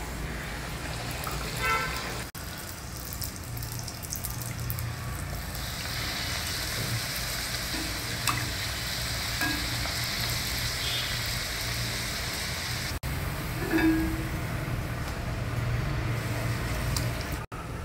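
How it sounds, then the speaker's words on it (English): Puris deep-frying in hot oil give a steady, soft crackling sizzle that runs continuously throughout, with a few faint clicks and no talking. "Our puris have been fried,"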